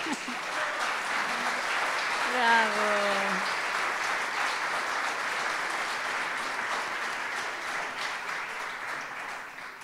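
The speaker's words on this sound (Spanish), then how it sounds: "Para todos ellos aquí presentes, por favor, de nuevo este cariñoso aplauso." Warm, steady applause from an audience at a 65th anniversary commemorative ceremony for UCV Televisión, a continuous even clapping lasting about ten seconds, with a voice briefly rising above it early on.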